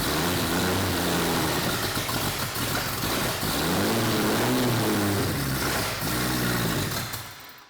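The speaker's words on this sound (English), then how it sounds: "The reason he goes ahead and hits the throttle a couple of times, you've got accelerator pumps on the older carburetors." An older carbureted Hudson Hornet engine revs up and falls back as the throttle is pumped a couple of times, a loud, close, rising and dipping engine roar that runs steadily throughout and cuts off near the end.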